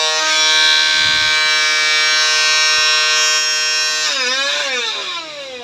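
A small vacuum cleaner whines loudly and steadily at close range during a suction test on torn tissue paper, its pitch shifting and dipping near the end as the load changes.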